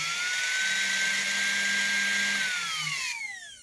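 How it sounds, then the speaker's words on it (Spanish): The motor of a Husqvarna Clase 21 sewing machine, taken out of the machine and short of lubrication with a dirty collector, runs with a loud, steady high whine, then spins down with a falling pitch. "lo aguanto el motor y lo enchufo"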